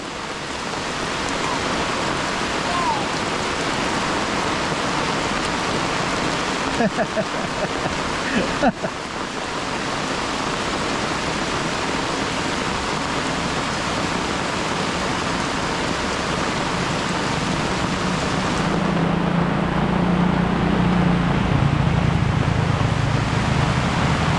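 Steady rain pours over a garden in the rainy season, a dense continuous hiss with no letup, briefly broken by a couple of sharp knocks near the middle and growing slightly heavier toward the end.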